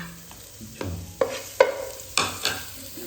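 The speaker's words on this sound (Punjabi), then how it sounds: "ਅਦਰਕ ਲਸਣ ਮਿਰਚ ਪਹਿਲਾਂ ਭੁੰਨ ਲੈਣੀ ਹੈ" Ginger, garlic and chili sizzle softly in a hot pan while a spatula scrapes and stirs in several distinct strokes, close up with no voices.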